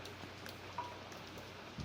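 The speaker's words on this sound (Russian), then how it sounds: "мы очень долго ждали этого дождя" Summer rain falls over the city of Bendery in July, a faint, even patter and hiss that continues without a break and sounds distant and soft.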